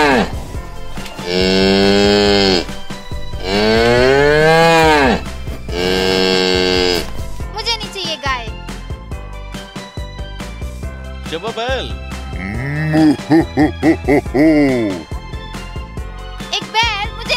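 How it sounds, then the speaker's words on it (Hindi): A bull in a children's cartoon gives several long, loud moos, alternating with a voice speaking over background music. "एक बैल, मुझे नहीं चाहिए पापा ये बैल।"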